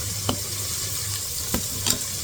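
Chicken and onions sautéing in a large pan for elaneer (tender coconut) chicken, a steady hissing sizzle with a few scraping stirs of the spatula standing out, close and unaccompanied by talk.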